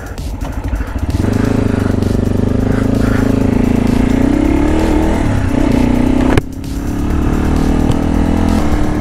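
A 2021 Italika VX250 motorcycle engine starts up and runs loud and close, revving and rumbling steadily, with a brief shift in pitch partway through as the bike rides on.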